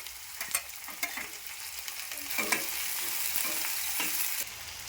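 Chopped onion and tomato fry in a pan with a steady, bright sizzle, broken by a few sharp clinks and scrapes of stirring close by.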